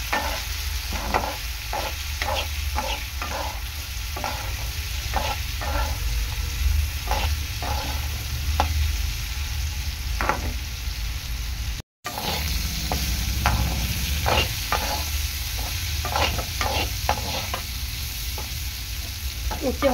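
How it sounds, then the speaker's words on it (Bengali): Sliced bitter gourd frying in oil in a pan with salt and turmeric, a steady close sizzle punctuated by repeated scraping clicks of stirring, with a brief silent break partway through. "হালকা করে ভেজে নেওয়ার পর লবণ হলুদটা দিলে উচ্ছেটা বেশ ভালোই ভাজা যায়"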